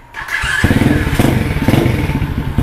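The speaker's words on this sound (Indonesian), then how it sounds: "Nah, jadi engine ini langsung starter aja." An SY Moto 125 motorcycle engine is electric-started, catching after a brief crank and settling into a loud, close, rhythmic thumping idle.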